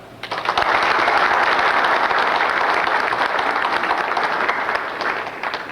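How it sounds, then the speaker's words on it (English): Families of state trooper academy trainees receive a round of applause at a graduation banquet: steady, full clapping from the room that swells quickly, holds for several seconds, then begins to taper. "I think y'all deserve a round of applause for that"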